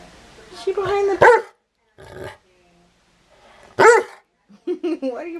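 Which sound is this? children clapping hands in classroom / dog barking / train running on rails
dog barking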